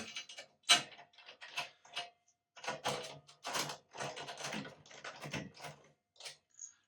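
Clicking and ratcheting from a drum key turning the tension rods on a small tom, a quick run of light, irregular metallic clicks close up, heard alone.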